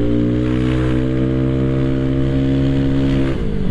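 A bored-up Honda PCX 160 scooter holds a steady, loud engine drone under acceleration, its harmonic note sustained and close, then shifting slightly near the end as revs change.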